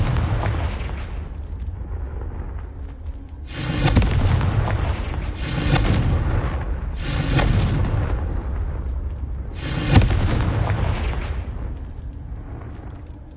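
Confringo fire spell explosions in Hogwarts Legacy: four booming bursts over a steady rumbling background, each swelling and then fading, loud and close.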